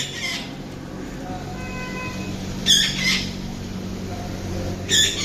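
Pigeons kept in a loft at a cattle farm give short, faint bursts of calls, two or three brief outbursts over a steady low background hum.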